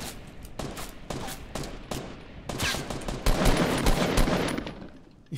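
Rapid bursts of gunfire in a Fortnite match, sharp repeated shots building into dense overlapping volleys, loud and close, with no talking.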